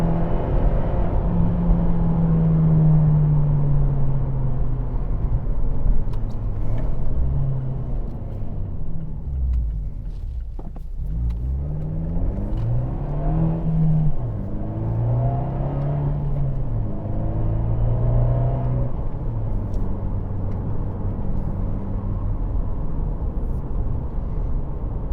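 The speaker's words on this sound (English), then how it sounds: "We're hitting full throttle there." An Abarth 124 Spider engine at full throttle, droning and rising in pitch as it accelerates hard through the gears, a brief dip between shifts, loud and close from inside the cabin.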